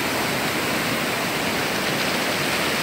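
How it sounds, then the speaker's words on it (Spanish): A large stream swollen by heavy rains rushes in a dense, steady roar of churning water, loud and close, with no pauses and no voices over it. "Aquí va otro riachuelo, pero va muy grande."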